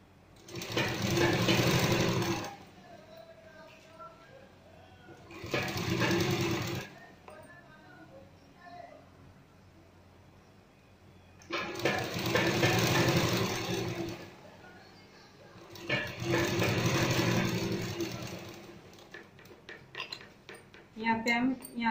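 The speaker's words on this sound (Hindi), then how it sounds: "यहाँ से स्टार्ट करेंगे हम सिलना इसको।" Sewing machine stitching a fabric sleeve, running in four long, steady whirring bursts separated by quiet pauses, close by with faint handling noise between runs.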